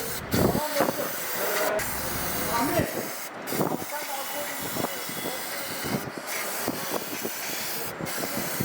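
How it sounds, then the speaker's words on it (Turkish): Brake cleaner sprayed to wash the manifold side of a Fiat Uno 70S 1.4 engine, a steady loud hiss with sputtering bursts and clatter, a voice talking over it. "Manifold tarafını balata spreyle güzelce yıkıyoruz."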